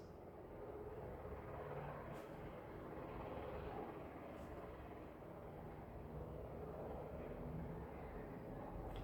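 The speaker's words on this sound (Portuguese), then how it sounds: "Infelizmente, horário de helicóptero aqui." Helicopter passing near an airport, a steady faint rumbling drone throughout with no clear rise or fall and no speech.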